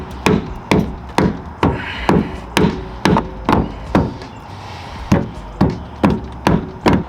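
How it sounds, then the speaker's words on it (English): Mallet strikes on the plastic wheel well liner of a 6th gen Ford Bronco, about a dozen sharp, evenly spaced knocks in a steady rhythm, close and loud. "So I'm gonna take a mallet and just"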